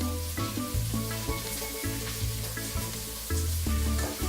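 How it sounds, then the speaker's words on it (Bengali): Sliced onions fry in a pan for a slow-cooker duck curry, a soft sizzle running beneath louder tonal background music that dominates the mix. "পেঁয়াজ কুচিটা হালকা ভাজা হবে।"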